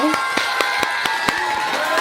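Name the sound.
applause for the two sisters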